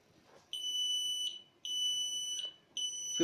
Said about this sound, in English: alarm should be on